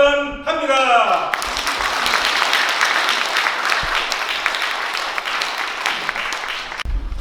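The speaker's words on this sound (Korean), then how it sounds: "힘찬 응원의 박수로 축하하면서 개회를 선언합니다" Sustained audience applause at a book launch event, loud and dense clapping that swells after an opening voice and runs for several seconds before cutting off.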